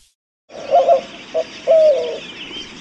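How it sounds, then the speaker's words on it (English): A white-winged dove of the Sonoran Desert gives its hooting call: a few close, loud cooing notes, a short break, then a longer drawn-out coo that fades into quiet background hiss. "White-winged dove."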